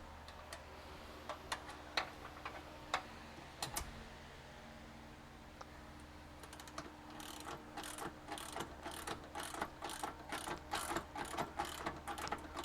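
A wrench ratchets as a bolt with Loctite is torqued down in a garage, giving faint scattered clicks at first, then a steady run of quick ratcheting clicks in a rhythmic series.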